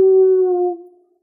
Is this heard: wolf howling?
yes